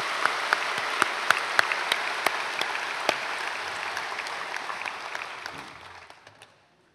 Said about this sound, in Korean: 오늘 찬양을 해주신 권사님들에게 감사의 박수 하겠습니다.